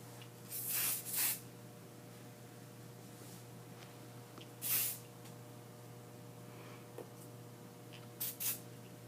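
Short hisses of hair spray from an aerosol can come while styling an athlete's hair: a double burst, a single spray, then two quick puffs near the end. Each is close and crisp over a steady low electrical hum.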